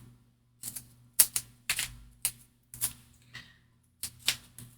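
Paper for a tall skinny Christmas journal is being cut, heard as a series of about eight crisp, sharp snips or chops, close and distinct, with brief silent gaps between them.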